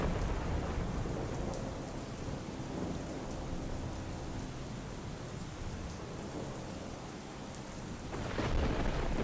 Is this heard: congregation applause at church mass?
no